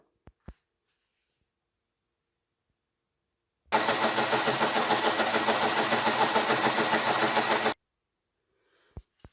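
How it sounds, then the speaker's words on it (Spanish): A blender on turbo, top speed, crushes ice for lemonade in one loud, dense four-second burst of grinding roar. It starts and stops abruptly, with a few faint knocks before and after in otherwise near silence. "con unos cuantos 10-15 segundos en modo turbo o a velocidad máxima es suficiente para que quede el hielo picado"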